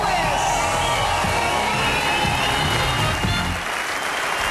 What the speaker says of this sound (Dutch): Geniet nog even van het applaus voor Edwin Evers en Berlin Lewis.